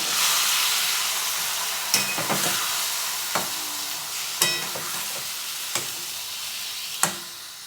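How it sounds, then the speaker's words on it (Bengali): Fish and potato alu ghati masala being stirred in a pan after a splash of water, with a steady sizzle and a few distinct scraping knocks of the spoon against the pan, close and alone. "এবার সামান্য একটু জল দেব দিয়ে সব মিশিয়ে দেব"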